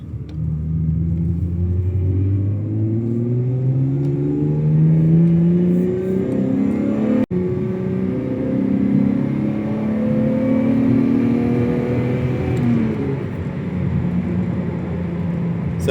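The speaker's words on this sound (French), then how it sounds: "Le son du 6 cylindres, c'est une dinguerie." A BMW E36 with a six-cylinder engine pulls through the gears while driving, its exhaust note rising in pitch in repeated sweeps, with a brief break at a shift before climbing again, loud and close.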